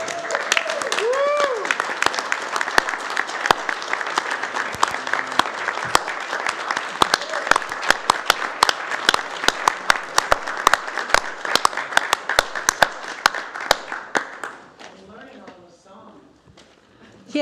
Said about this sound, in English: you should all give them a big round of applause